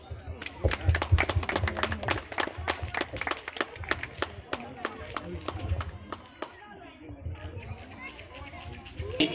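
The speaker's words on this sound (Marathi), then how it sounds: "थोडं टाळ्या तरी वाजवा" Audience applause at an inauguration ceremony comes as scattered, uneven clapping from a crowd, mixed with voices talking and chatter around it.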